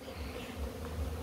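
Honeybees swarm densely in packed hive boxes during swarm control, producing a steady, close, continuous buzzing drone with slight swells in intensity.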